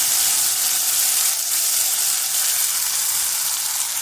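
Ground ginger paste hits hot oil with fried curry leaves for a ginger gravy, giving a loud, steady sizzle and frying hiss that runs unbroken throughout with no voices.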